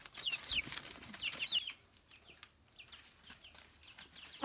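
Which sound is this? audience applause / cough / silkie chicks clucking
silkie chicks clucking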